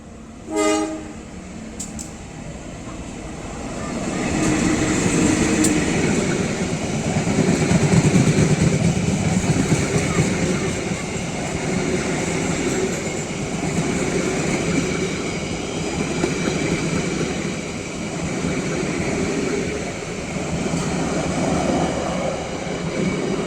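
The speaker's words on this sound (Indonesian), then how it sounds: "dari timur persiapan masuk stasiun Haur Pugur ada kereta api komuter lain Garut" A Garut commuter train arrives at Haurpugur station on the double-track line, with a sustained nearby horn and steady rail and engine rumble filling the whole stretch.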